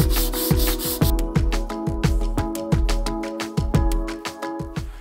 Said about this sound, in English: I need to sand this down a little bit, smooth out the faces